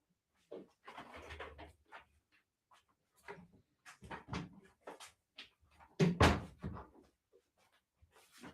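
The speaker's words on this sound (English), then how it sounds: "So I shut the door." A door is pushed shut indoors, giving a run of bumps and thuds of varying strength with quiet gaps between them and the loudest knock near the end; no one speaks.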